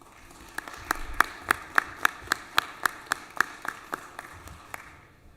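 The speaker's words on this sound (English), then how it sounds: "if we please give them a round of applause" A handful of sharp, evenly spaced claps ring out in a steady rhythm at a legislative session, about a dozen in a row, fairly close, before trailing off.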